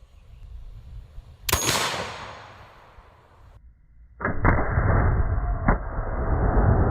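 A suppressed subsonic 4-bore rifle firing a 2,150-grain bullet gives one sharp, muffled report with a short decaying tail, followed by a steady broadband rushing noise.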